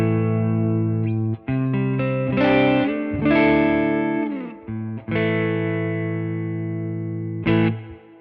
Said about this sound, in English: I've got the reverb on the Tone King Imperial preamp pedal, so what you hear in terms of reverb is coming from the pedal